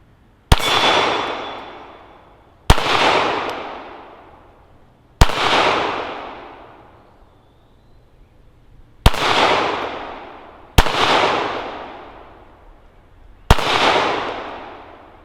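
Glock 42 pistol fired at a shooting range: six loud, sharp, close shots spaced a couple of seconds apart, each with a long reverberant decay and no talking.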